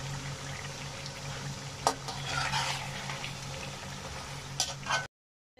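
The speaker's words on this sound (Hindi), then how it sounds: "अब इनको मैं अच्छी तरह भून लेती हूँ 5 मिनट तक।" Chicken frying in a pan with two tablespoons of garlic and ginger paste for a karahi, giving a steady close sizzle with a few brief stirring scrapes and no talk.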